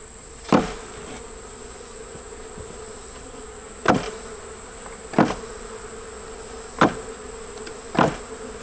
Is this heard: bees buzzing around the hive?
yes